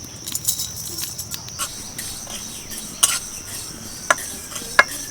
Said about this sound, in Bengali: বেশ কিছুক্ষণ নাড়াচাড়া করাতে দেখুন মশলাটা খুব সুন্দরভাবে ভাজা হয়ে গেছে